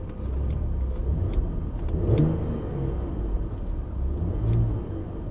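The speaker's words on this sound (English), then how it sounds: "I hear a similar noise to that BMW coming from this, just a rattling kind of." A car idling and lightly revving at a Copart salvage auction, with a steady low engine rumble and a faint rattling noise running underneath, close and continuous with no talk.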